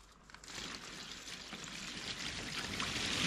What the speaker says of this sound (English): dump a literal bucket of water and see if it works